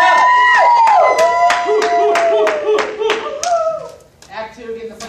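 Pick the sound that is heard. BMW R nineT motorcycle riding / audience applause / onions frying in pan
audience applause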